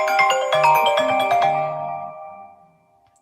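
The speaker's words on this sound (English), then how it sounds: "Si, that was Nathan ringing." A mobile phone plays a melodic chiming ringtone, several bright tones in quick succession that ring out loud and close, then fade away into near silence.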